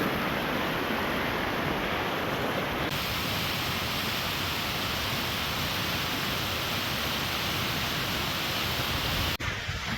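Fourmile Falls near Pagosa Springs, Colorado roars close by in a steady, loud broadband rush of falling water, unbroken for the whole stretch with a slight shift in tone partway through.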